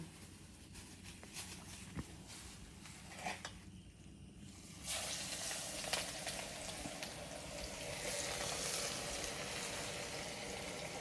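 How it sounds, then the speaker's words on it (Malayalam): Food frying slowly in sesame oil over a steady low flame, a faint continuous hiss and crackle that grows broader and brighter midway, with occasional soft knocks and no talking. "ഇതിപ്പോ നമ്മള് വറുക്കണതും നല്ലെണ്ണയിലാണ്"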